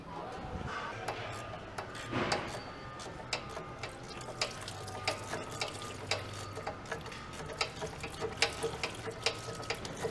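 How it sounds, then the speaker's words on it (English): Automatic transmission fluid from a Ford F150's 10R80 transmission pan drips into a catch container as a scattered series of small, close ticks and drips over a low hum. "then it'll just drip little by little into here"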